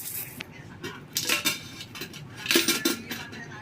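Coins dropped by hand into a savings container, several close metallic clinks and jingles arriving in small clusters over a few seconds, no speech.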